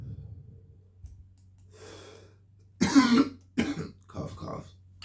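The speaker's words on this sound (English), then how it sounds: "Cough, cough." A person gives a few rough, close coughs and throat-clearing bursts in a quiet room, following some soft breathing.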